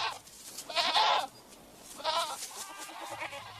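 Goats roaming loose in a Madagascar forest give two or three short, wavering bleats close by, separated by quiet pauses.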